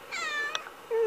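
A kitten at a humane society shelter gives two or three clear, rising meows close by with short pauses between them.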